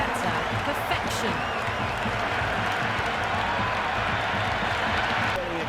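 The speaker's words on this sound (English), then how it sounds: "Very exciting, and the crowd have joined the party. It's pretty noisy at the ground." A stadium crowd roars at a T20 cricket match between India and New Zealand in a PS5 cricket game, a dense, continuous wash of cheering and applause that runs under commentary.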